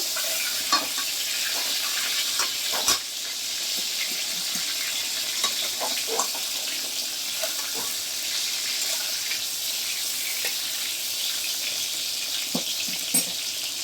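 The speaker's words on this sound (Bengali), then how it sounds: "পটলটাকে এবার ছেড়ে দিলাম। এবার পটলটাকে একটু নাড়িয়ে দিচ্ছি।" Pointed gourd frying in hot oil, a loud continuous close sizzle with scattered crackles and pops, the pan stirred now and then throughout.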